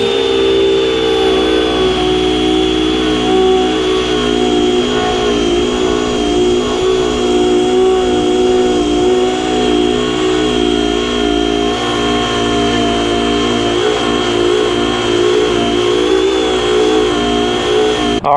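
Power tool revved to high RPM while stripping an old decal off an RV, a loud continuous whine with steady tonal harmonics holding at constant speed for the whole stretch.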